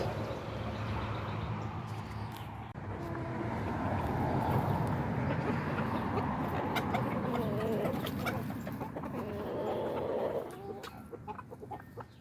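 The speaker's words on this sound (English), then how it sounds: "Throwing them to the chickens." Backyard coop chickens clucking and murmuring as a close, dense flock chorus, steady and moderately loud, fading down near the end.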